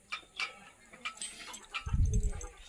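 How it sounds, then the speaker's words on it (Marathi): A dog with a broken leg lets out several short, high whimpers and whines at close range, followed by a louder low rumble near the end. "त्या कुत्र्याचा पाय मोडलाय."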